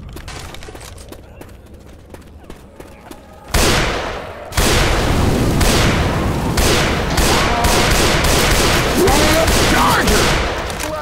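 Rapid gunfire in the zombie shooter Left 4 Dead 2, starting with scattered shots and then breaking into loud, dense bursts of automatic fire that continue almost without pause, with voices calling out over the shooting.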